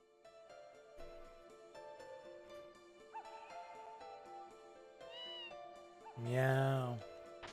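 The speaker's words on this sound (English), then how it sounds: "Meow." Cat meowing in the PS1 video game Tales of Phantasia, a short game sound rising loudly near the end over background game music and a speaking voice.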